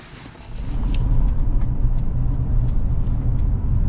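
Car pulling away and driving along a road, heard from inside the cabin: low engine rumble building quickly then holding steady with tire and road noise, close and continuous.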